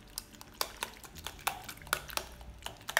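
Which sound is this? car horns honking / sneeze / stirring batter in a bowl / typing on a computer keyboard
stirring batter in a bowl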